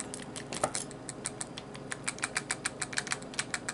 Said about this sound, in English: you just turn it upside down and let all the loose rounds fall out.